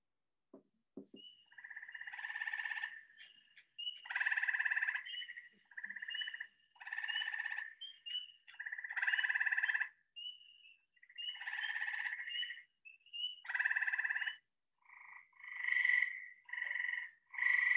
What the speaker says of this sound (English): this is the gray tree frog